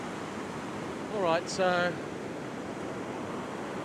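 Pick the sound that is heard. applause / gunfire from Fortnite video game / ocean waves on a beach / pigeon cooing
ocean waves on a beach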